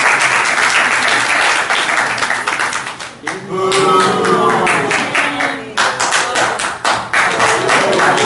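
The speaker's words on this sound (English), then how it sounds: "I want you guys to either react by clapping or by booing." An audience claps loudly in reaction to a picture shown at a youth conference talk, with dense applause that briefly dips and then returns, voices and scattered calls mixed in.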